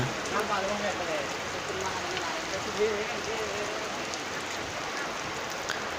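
Steady rain hisses and patters close by during tidal flooding in Lakshmipur, Bangladesh, while a person talks over it.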